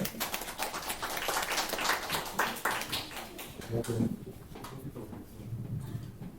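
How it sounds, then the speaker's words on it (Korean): Applause from a group of adult students at a university orientation session, a few seconds of dense clapping from the room that fades to a quieter murmur of room noise. "다시 한번 박수"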